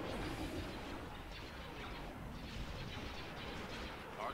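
Gunfire in a Star Wars Empire at War space battle, a continuous rattle of rapid shots and muffled blasts at low volume, with a faint voice underneath.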